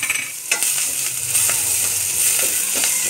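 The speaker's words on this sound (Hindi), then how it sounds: "इसको अच्छे से 2 मिनट के लिए मैं सॉटे कर लूँगी।" Chicken patiala ingredients, including ginger, sauté in a hot pan with a steady close sizzle, punctuated by the scrape and clink of a spoon stirring every second or so.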